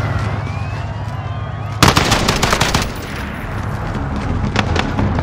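Rapid automatic gunfire in the Call of Duty Modern Warfare campaign, a loud burst of rattling shots followed by scattered sharper reports over background game ambience.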